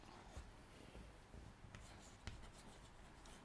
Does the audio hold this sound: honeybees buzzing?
no